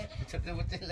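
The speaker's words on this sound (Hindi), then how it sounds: "देख सकते हो हमारी बकरी" Goats bleating in a village farmyard, a few overlapping calls close by, mixed with steady background noise and a person talking over them.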